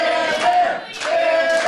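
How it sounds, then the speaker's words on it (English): A wrestling crowd chants "Bam Bam" in two loud, swelling bursts of massed voices, filling the arena. "listen to that crowd chanting Bam Bam"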